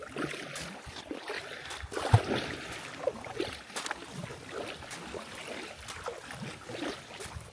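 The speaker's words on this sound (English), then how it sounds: "So I'm breaking through a little bit of ice here right now." Kayak pushing through thin ice on open water, with irregular crackling, crunching and sloshing splashes close by, with one sharper crack partway through.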